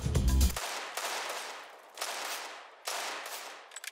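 Counter-Strike: Global Offensive gunfire, a loud close burst of shots followed by several quieter separate reports, each trailing off in echo.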